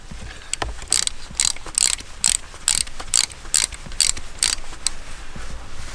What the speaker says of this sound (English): I have my ratchet, I have my 10 mil, and we're gonna simply put it on here. And we're going to loosen this up.